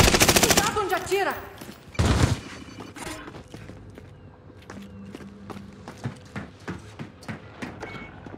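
Bursts of automatic gunfire in the video game Call of Duty Warzone open the scene, followed by scattered shots and footstep-like clicks, while a player speaks over the action.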